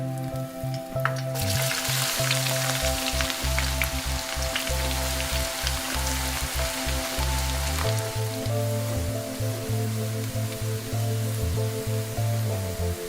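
Sliced onions frying in one and a half cups of hot ghee in a wok, a steady dense crackle and sizzle throughout with a low tonal hum running underneath.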